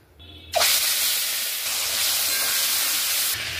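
Prawns marinated in salt, turmeric and gondhoraj lime juice drop into hot oil, bursting into a loud, sudden sizzle that settles into a steady, crackling hiss close by, with a faint electronic beep just before.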